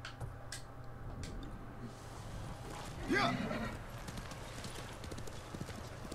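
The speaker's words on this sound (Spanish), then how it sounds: "caballo que no es Nobu, vente" Horse hooves clip-clop in the Ghost of Tsushima video game, a steady walking rhythm of hoof strikes under a low ambient bed, with a brief whinny-like rise midway.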